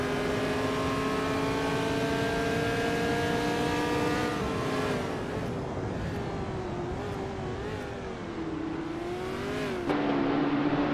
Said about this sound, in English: Deadline Fake is driving a 1966 McLaren M10A